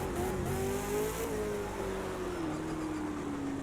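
Race car engine in Project Cars 2 at Bathurst, revving steadily at high pitch with a slight dip and recovery in tone, loud and continuous throughout with no voices.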